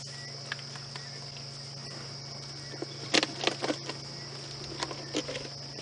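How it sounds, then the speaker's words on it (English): Cicadas buzz and trill steadily in the distance on an evening safari drive, a continuous high drone with a few louder rustles and clicks. "You can hear the cicadas starting to call in the distance here."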